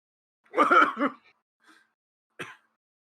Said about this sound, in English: Do you hear a cough?